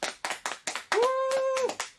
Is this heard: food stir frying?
no